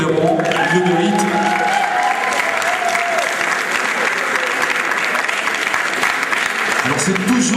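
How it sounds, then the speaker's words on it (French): Audience at a sports merit awards ceremony applauding prize winners, a sustained, dense burst of clapping that fills the whole stretch, with a voice speaking briefly over it at the start. "Vous pouvez les applaudir évidemment, ils le méritent."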